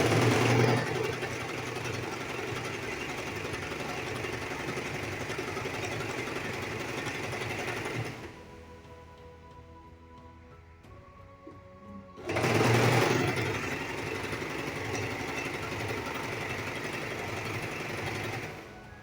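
A sewing machine runs straight stitches through sequined turban fabric, a loud, steady buzzing drone that stops for about four seconds of quiet handling before starting up again just as strongly.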